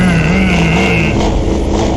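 A voice imitates a car engine revving, a continuous buzzing, growling vocal drone that rises and wavers, loud and close, with no other sounds around it.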